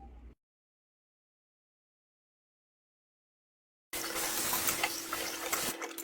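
Tap water running steadily into a kitchen sink while baby bottles are washed, a close, continuous hiss and trickle that starts abruptly after a few seconds of silence.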